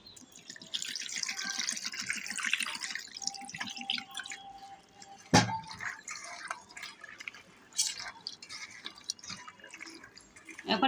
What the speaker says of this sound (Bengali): এখন পানি দেব